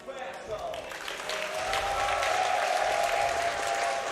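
A crowd at a StarCraft esports grand final applauds in a dense, sustained wash of clapping that swells and holds steady, with a commentator's voice faintly mixed in.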